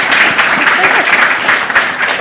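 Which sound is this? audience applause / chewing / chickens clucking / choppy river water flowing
audience applause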